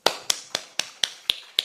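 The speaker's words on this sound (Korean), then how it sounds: "박수." Crisp, sharp claps ring out seven times in an even, quick rhythm during a Wednesday church service sermon, close and distinct with no voices over them.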